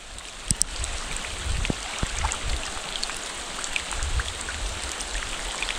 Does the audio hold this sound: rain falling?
yes